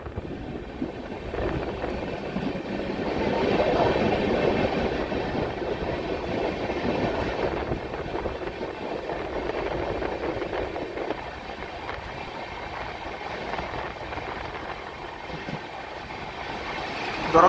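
An AC express train runs steadily on the line near Anakapalle, a continuous broadband rumble of wheels and carriages that swells slightly early on and then holds at a constant level, with no voices.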